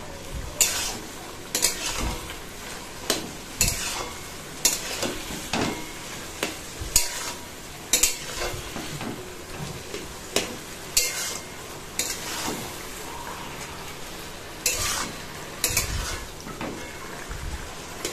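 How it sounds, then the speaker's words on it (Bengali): Colocasia greens frying with turmeric in a pan for a hilsa-head dish, a soft continuous sizzle broken by repeated scraping stirs of a spatula against the pan, fairly close and without talk. "ভাজা ভাজা করতে হবে।"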